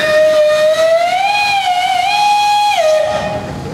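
A single loud blast from the steam whistle of an 1883 Nicholson Shepherd 10 horsepower traction engine at a parade, its pitch rising then holding before dropping away into a hissy tail.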